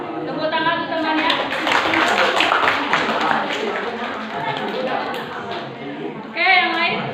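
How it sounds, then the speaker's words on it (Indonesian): Classroom of children clapping for a classmate, with a sustained burst of hand claps mixed with chatter, then a voice speaking as the applause fades. "Tepuk tangan untuk temannya."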